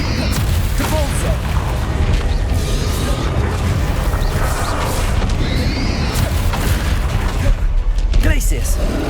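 Depulso spell impacts land in Hogwarts Legacy amid combat, a steady stream of booming thuds and crashes, loud and close, with voices shouting spell names over them.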